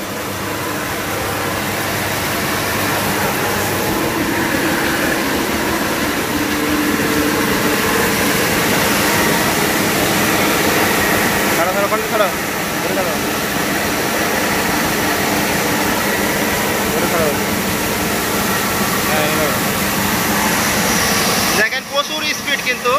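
Automatic rice mill machine running in a Bangladeshi mill, a loud, continuous mechanical roar and hum with no pauses, heard up close throughout.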